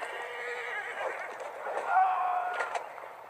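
A horse whinnies loudly and close by, a single drawn-out neigh rising over a few seconds with faint clip-clop of hooves underneath.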